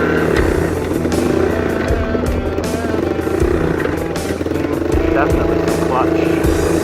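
A 1984 Honda 125M ATC three-wheeler runs with a droning single-cylinder engine note that rises and falls steadily. The machine has clutch trouble and shifts poorly, and someone talks over the engine.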